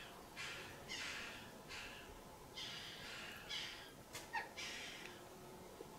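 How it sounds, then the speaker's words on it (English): Several harsh bird calls, likely crows, caw in short bursts over steady background hiss at a haunted mansion during a ghost investigation, fairly faint and spaced out with no talk. "That might have been the birds"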